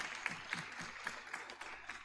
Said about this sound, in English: Team EU, can we give them a round of applause?